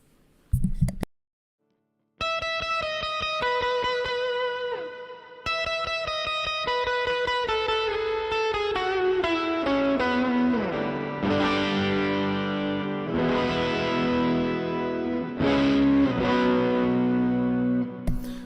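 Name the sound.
electric guitar with reverb and delay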